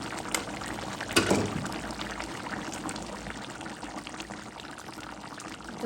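Prawn curry broth cooked with taro stems, cucumber and eggplant is poured with a soft, continuous liquid splash that swells briefly near the start, then settles into a quiet, steady trickle with small clinks, no talk.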